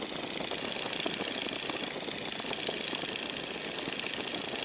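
Stearman biplane engine running steadily during a training flight, a continuous droning rumble with rapid mechanical clatter, close and even in level with no voices heard.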